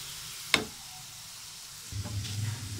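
Makki ki roti, a corn flatbread, cooks on its second side on a hot pan, giving a faint low sizzle after one sharp tap, the sizzle swelling slightly near the end.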